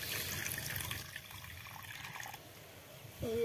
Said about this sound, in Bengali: এখন জল দিয়ে দিব